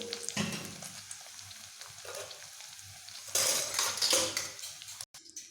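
Paneer pieces frying in oil in a pan: a steady close sizzle with occasional spatula stirring and scraping, swelling louder for a stretch before cutting off sharply near the end, with no speech.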